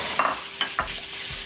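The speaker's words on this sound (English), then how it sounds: "now it's time to add our cauliflower into it" Cauliflower for a yogurt sabzi tossed into a hot pan with turmeric and spices, a steady sizzle punctuated by several sharp stirring scrapes and knocks, close and without talk.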